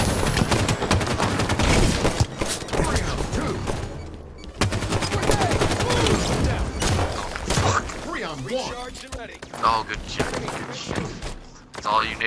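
Heavy, continuous gunfire and explosions during a Halo 5 Extermination match on the Forge map Tyranny: dense, loud bursts with brief lulls, with players' voices talking underneath.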